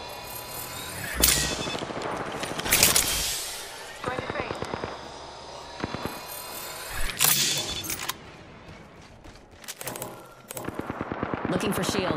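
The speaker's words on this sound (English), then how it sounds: "Getting shot at." Bursts of gunfire in the Apex Legends video game, with rapid automatic volleys and sharp single shots coming in clusters, some loud and close, mixed with game sound effects and a voice talking.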